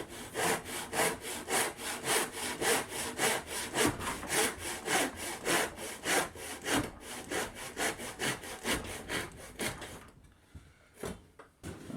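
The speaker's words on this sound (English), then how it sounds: "can use this to guide our saw and hopefully reproduce consistent 45-degree angles" A hand saw cuts wood at a 45-degree angle through a shop-made miter guide, with steady back-and-forth rasping strokes for about ten seconds, then a few final scrapes, close and alone.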